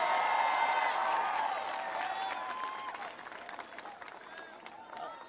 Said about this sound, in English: Can everybody please give Ed a huge round of applause